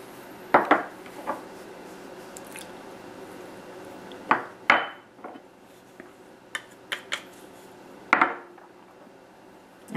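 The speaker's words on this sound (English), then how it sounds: "let's mix the beef and ingredients together, adding the cornstarch last" Beef being mixed with marinade ingredients and cornstarch in a bowl, with sharp clinks and scrapes of utensil against dish in scattered bursts, close and fairly loud amid quiet pauses.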